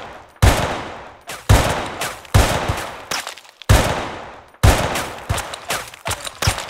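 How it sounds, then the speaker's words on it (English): Rapid gunfire in the online game SA-MP: a string of sharp, loud weapon shots in uneven bursts, each with a short decaying tail, and no voices over it. "All right, rapid fire."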